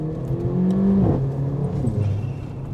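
Induction whoosh from the intake kit of a Stage 1 tuned Mercedes-Benz A45 AMG hot hatch, a breathy rising rush as the engine revs up, then falling away, heard close with no one talking.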